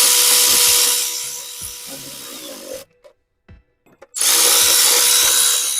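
A power tool snugs down valve cover bolts on a 2018 Ford Escape 2.5L, giving a loud, close whirring burst that stops briefly before starting again.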